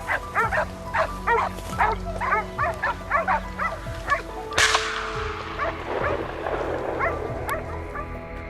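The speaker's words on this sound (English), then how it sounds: "The loud barking of the hunting dogs deep in the bushes signaled that a trail had been found." Hunting dogs bark loudly from deep in bushes at the edge of a field during a wild boar hunt, giving a steady run of sharp repeated barks for several seconds, then a loud burst of rustling and commotion.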